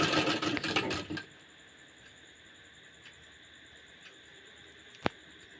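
A sewing machine runs briefly, stitching the shoulder seam of a kameez, a close rapid whirr lasting about a second before stopping, followed by near quiet with a single sharp click.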